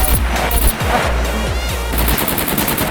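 Rapid bursts of automatic gunfire from the survival video game SCUM, several loud volleys in quick succession with a steady rattling rhythm, close and dominant with no talking.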